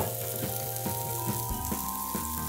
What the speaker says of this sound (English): So stir up the tofu. I'm gonna add the chickpeas right to this.